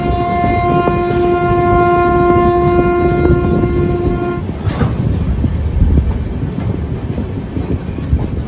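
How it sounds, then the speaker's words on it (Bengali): Howrah–Puri SF Express slowing to a crawl: loud, close rumble of wheels and carriages with a sustained multi-tone horn blast for the first few seconds, then a steady rolling rattle. "আর ট্রেন কিন্তু অনেকটাই স্লো হয়ে গেছে এখানে"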